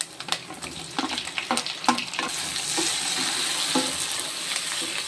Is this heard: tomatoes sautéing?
yes